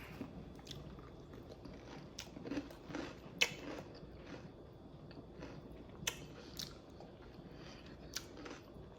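Someone bites and chews a homemade preserved food, soft close crunches and squishy mouth sounds recurring irregularly and faintly in a quiet kitchen.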